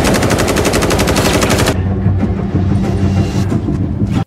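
Rapid automatic gunfire in a film ambush scene, a loud continuous burst for under two seconds, then rumbling noise and scattered impacts before cutting off abruptly.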